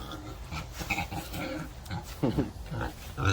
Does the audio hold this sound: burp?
no